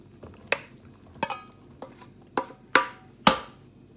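Pasta salad with peppers, onion, cucumber, basil and spring onion being tossed together, giving a handful of sharp, close clinks and soft wet squishes of utensil against bowl, irregularly spaced with quiet gaps between.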